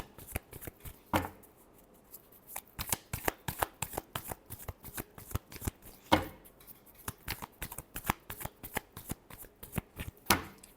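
Tarot cards being shuffled by hand, a close series of crisp riffling bursts and taps repeating irregularly over about ten seconds, with no talk.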